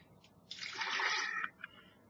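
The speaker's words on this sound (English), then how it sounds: "Slosh it around a bit." A brief swish of water sloshing around in a pot, about one second long, quiet and close, with faint drips around it.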